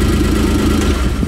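A Kawasaki Mule Pro-FX UTV engine idles steadily and loudly nearby, a mid-pitched, constant low rumble with a slight vibrating throb.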